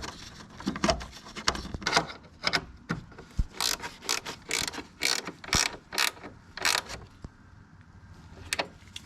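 Fan fastener being tightened on a supercharged G37 project car, giving a series of sharp ratcheting clicks and short mechanical bursts at close range, irregular and repeated, with no talking.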